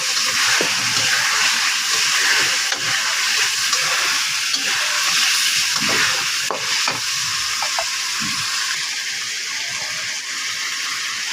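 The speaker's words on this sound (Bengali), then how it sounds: "ছেড়ে দিয়ে আবার নেড়ে নেব" Potatoes sizzle loudly in a pan with chicken curry as the mix is stirred, a steady frying hiss punctuated by occasional scrapes and clinks of the spoon, with no one speaking.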